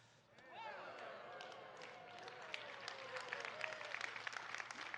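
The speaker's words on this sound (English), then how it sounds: "I appreciate your sympathy cheer" An audience gives a brief sympathy cheer, scattered clapping and a few voices rising quickly and sustaining at moderate distance, with voices in the crowd.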